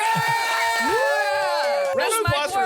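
A crowd cheering and whooping sound effect played during a podcast, a short burst of excited voices rising and falling over about three seconds, loud and close.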